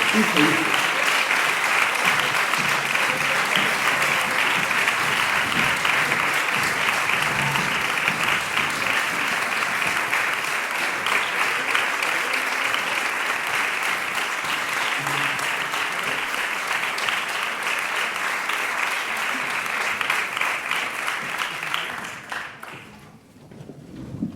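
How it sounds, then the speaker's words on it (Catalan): Loud, sustained applause from a large crowd at an orchestra concert in Quart de Poblet, dense clapping lasting over twenty seconds before fading out abruptly at the end. "li donem un fort aplaudiment"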